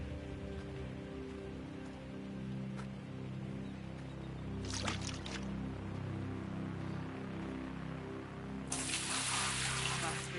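Water pours from buckets in the video game Gold Rush, two bursts of splashing that are short and sharp midway and then broader near the end, over a steady hum of background game music.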